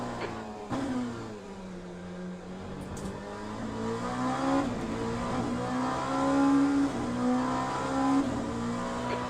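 A race car engine in the Le Mans Ultimate sim racing game drones steadily, its pitch rising and falling as it revs through gears, with a couple of faint clicks over the top.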